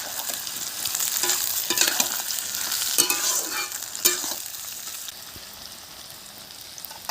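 Onions with whole garam masala sizzle in a pan for village-style duck curry, a steady hiss broken by sharp scraping stirs, close up, easing to a quieter simmer near the end.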